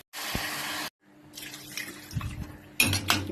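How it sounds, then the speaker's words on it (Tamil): Water from a glass poured into a pressure cooker holding chicken for Tamil-style chicken biryani, a steady splashing pour for under a second, then quieter clinks and kitchen handling noises close by. "இப்போ இதுக்கு 4 கிளாஸ் அளவுக்கு நான் தண்ணி ஊற்ற போகிறேன்."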